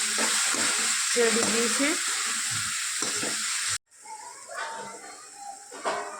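A tomato mixture for a Gujarati eggplant olo is stirred in a hot pan, giving a steady loud sizzle with spoon scrapes. The sizzle drops briefly before resuming more softly, and a voice speaks briefly.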